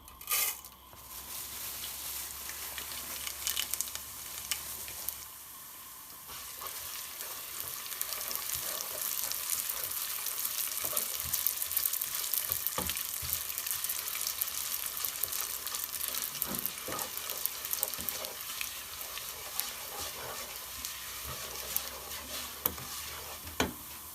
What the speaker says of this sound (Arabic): بنفس الزيت ده هحط الشعريه، انزل بالشعريه